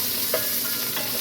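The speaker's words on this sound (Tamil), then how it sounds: "நீ வெங்காயத்தை போட்டு பச்சை மிளகு, வெளுத்துள்ளி இவ்வளோ போட்டு நல்லா ஒன்று வதக்குவோம்." Onions, green chilli and garlic sauté in a hot pan, giving a steady close sizzle with a few soft stirring scrapes.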